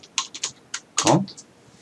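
Computer keyboard typing in short bursts of separate keystrokes, close and fairly quiet, with no one talking over it.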